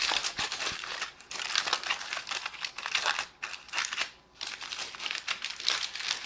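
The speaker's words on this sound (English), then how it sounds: "you want to kind of tuck the edges up as we go around here" Heavy-duty aluminium foil crinkles and crackles as it is crumpled and its edges tucked up, a dense, close rustling with brief pauses, loud and continuous with no talking.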